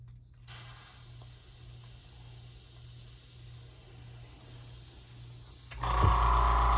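A heat gun heat-sets paint on a pewter fishing lure, giving a steady airy blowing hiss with a low hum, followed near the end by a louder burst of noise.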